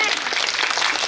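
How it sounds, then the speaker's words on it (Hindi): A crowd claps steadily for a newly engaged couple at an engagement ceremony, a dense, even burst of applause that fills the whole moment. "एक बार तालियां हो जाए दोनों के लिए"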